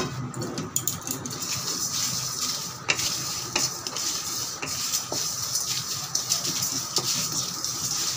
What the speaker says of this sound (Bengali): শুকনো লঙ্কা দিয়েছি, পাঁচফোড়ন, জিরে আর গোলমরিচ ঢেলে দিলাম।